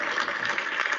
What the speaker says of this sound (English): a huge round of applause for Nishita.